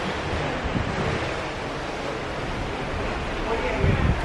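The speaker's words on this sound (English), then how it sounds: "I am in the middle of the ocean" Ocean waves and wind rush past on board a Carnival cruise ship at sea, a steady broadband roar with buffeting mic wind that swells slightly near the end.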